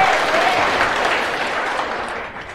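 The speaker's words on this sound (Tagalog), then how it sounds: "Palakpak ken ni Jesus." A church congregation clapping for Jesus during an Ilocano preaching service, a full burst of many hands applauding together, loud and near at first, then gradually thinning toward the end with no talking.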